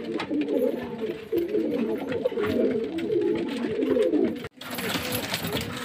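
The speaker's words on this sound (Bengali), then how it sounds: "আর কি সুন্দর খাচ্ছে দেখুন দুটো পায়রা।" Two pigeons cooing as they eat, with low burbling coos running almost continuously nearby and light pecking noises underneath, cut briefly by a short gap before the cooing resumes.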